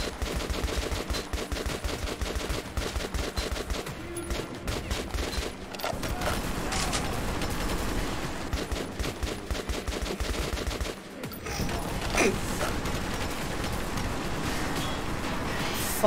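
A Metro 2033 firefight of dense, continuous gunfire, with rapid automatic bursts layered into a loud, steady barrage that dips briefly near the end before resuming at full intensity.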